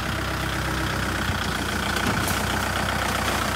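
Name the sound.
tractor engine running in field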